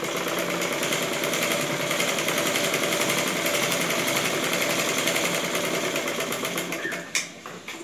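A sewing machine stitches a blouse front panel, running loud and steady with a dense, rapid needle chatter that holds unbroken until a brief catch near the end.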